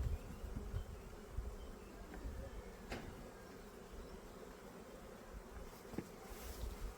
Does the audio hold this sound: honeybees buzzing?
yes